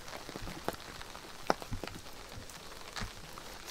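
Heavy rain falls steadily at Funaoka Park in Kyoto, a soft constant wash with scattered sharper drop impacts, fairly quiet and continuous, with no voices.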